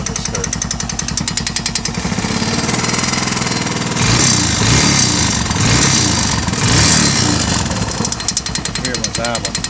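A 2016 Honda Recon 250 ATV engine idles and revs up close, with a rapid, regular tapping knock riding over the loud mechanical clatter and a voice talking over it.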